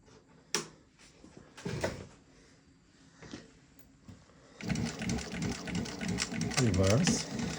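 Juki LU1509N industrial walking-foot sewing machine stitching, a steady mechanical whir running loud through the second half after a few scattered clicks and handling knocks.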